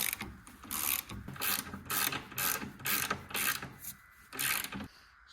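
Ratchet wrench clicking in repeated bursts while tightening bolts on a BMW X5 raised on a lift, each burst a quick run of sharp close metallic clicks separated by brief pauses.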